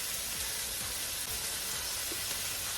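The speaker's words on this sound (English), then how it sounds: "Cook onion until it becomes translucent." Onion frying in a pan, a steady close sizzle with crackling texture and occasional faint scraping of stirring, continuous throughout.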